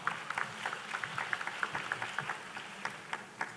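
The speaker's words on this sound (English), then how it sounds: "Please give them a big round of applause." An audience applauds a team walking onstage at a Vietnamese innovation competition final, with a steady, moderately loud patter of claps that thins out toward the end.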